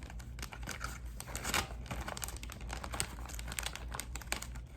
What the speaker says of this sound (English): pour your raisins into your plastic bag